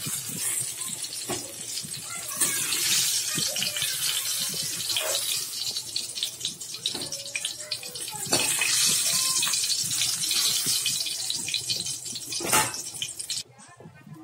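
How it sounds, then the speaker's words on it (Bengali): Brinjal and pointed gourd frying in hot oil in a pan for a Bengali suktor, a steady hiss and crackle running throughout with scattered pops and a voice speaking over it. "ওর মধ্যে আমি পটলটা ভেজে নিচ্ছি"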